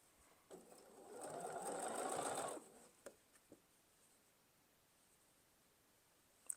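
Sewing machine stitching binding onto a quilt, a steady whirring run of about two seconds, then a few soft clicks and taps in a quiet room.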